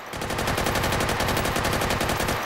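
Light machine gun firing a sustained rapid burst in the Hot Dogs, Horseshoes & Hand Grenades VR game, loud evenly spaced shots in a fast unbroken rhythm for about two seconds.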